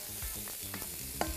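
Chopped onion and garlic stirred in ghee in a pot for Egyptian steamed basmati rice, giving a steady close sizzle with a few scraping stirs and a sharp clink near the end.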